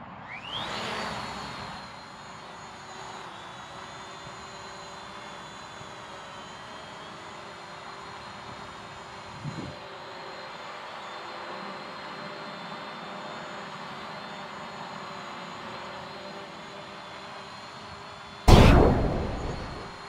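Hubsan Zino quadcopter drone lifting off and hovering after a firmware update, a steady whining motor drone with a rising pitch at the start, holding level throughout, with a brief thump midway and a sharp loud knock near the end.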